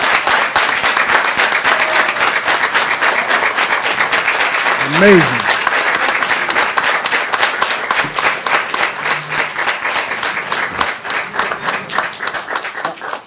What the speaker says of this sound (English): Give a round of applause for this team.